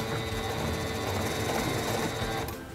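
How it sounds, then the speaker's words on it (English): A SINGER Stylist 7258 sewing machine runs steadily backward on reverse stitch, a close, continuous mechanical whir that holds level for nearly the whole stretch before easing off at the end. "Press and hold the reverse button to sew backwards a few stitches."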